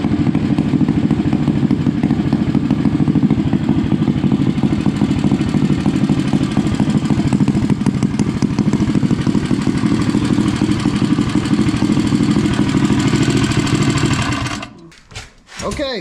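An engine idling loud and close while warming up after a 285 cam install, with a steady rapid mechanical chatter that cuts off near the end.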